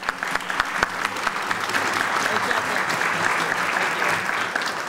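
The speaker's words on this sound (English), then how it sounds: "Give a round of applause" Audience at the Cadillac High School orchestra concert claps in a round of applause for five seconds, a few sharp claps at the start building into a dense, steady wash over a faint low hum.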